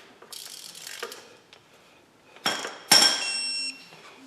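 A ratchet wrench snugs down upper transmission bolts to torque on a car, with short bursts of close clicking and metallic clinks between quiet gaps, ending in a louder ratcheting run.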